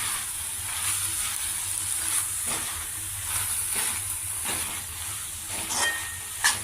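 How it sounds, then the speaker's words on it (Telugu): Boiled broad bean pieces get stirred into fried masala paste in a hot pan, giving a steady hiss and sizzle with soft scraping strokes throughout, fairly close and moderately quiet. "ఇప్పుడు దీంట్లో ఈ ముక్కలు మిక్స్ చేసుకోవాలి."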